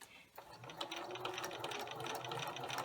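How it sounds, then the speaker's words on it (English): A sewing machine runs steadily while stitching quilt binding with a quarter-inch seam, its needle whirring in a continuous rapid rhythm after a brief pause at the start, close and moderately quiet. "I'm also going to back stitch just a little at the beginning and begin sewing."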